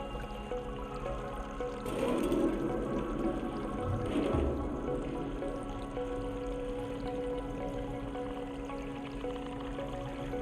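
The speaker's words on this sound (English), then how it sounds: "Fill it with water." Water fills a container in the video game Stray, a pouring, trickling rush that swells for a few seconds in the middle and then fades to a low background hum, with no one talking.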